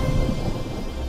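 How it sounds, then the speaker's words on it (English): A cartoon thunderstorm rumbles with heavy thunder and steady rain, a loud, dense roar filling the brief moment with no voices. "I have to stop that storm."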